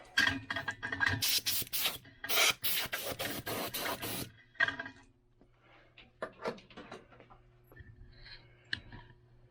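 Boxed 20th Anniversary Apple Macintosh being dusted off, with a rapid run of close, loud brushing and rubbing strokes, followed by quieter scattered rustles and light taps.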